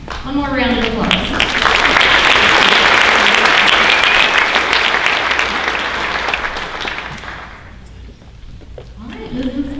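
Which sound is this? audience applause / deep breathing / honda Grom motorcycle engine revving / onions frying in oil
audience applause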